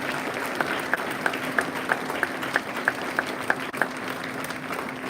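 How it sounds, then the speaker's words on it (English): Audience applause at a school board meeting honoring students and teachers, with steady, evenly spaced claps standing out over a low murmuring room background. "Let's give them a round of applause."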